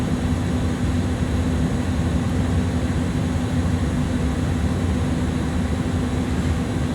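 Airbus A300-600 taxiing on a narrow taxiway at Edinburgh in Microsoft Flight Simulator, a steady, loud continuous jet engine drone with a low hum that holds evenly throughout.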